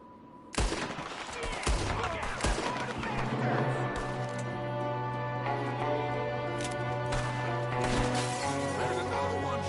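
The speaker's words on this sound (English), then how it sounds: "there's another one shooting from the window" Gunfire rattles through a Red Dead Redemption 2 shootout: a sharp volley opens it, then repeated rifle and pistol shots crack over a steady backdrop of game music and ambience.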